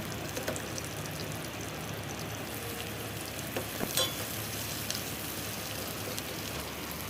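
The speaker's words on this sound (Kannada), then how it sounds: "ನೀರುಳ್ಳಿ ಪಾಡ್ದು ಶೋಕು ಫ್ರೈ ಮಲ್ಪೆ" Chopped onion frying in hot oil, a dense even crackling sizzle close by with a couple of faint stirring knocks, no talking.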